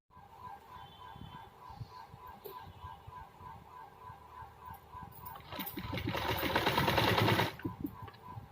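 A sewing machine stitches a salwar with a quick, steady mechanical chatter, faint at first and then rising into a louder, busier run of stitching near the end, with no talking.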